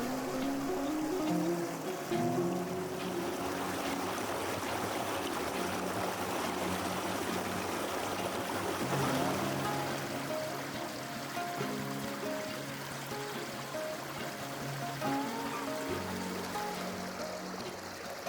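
A brook flows through a wooded nature preserve, a soft, continuous gurgling and trickling that is close and steady, with small splashes over a constant wash of running water.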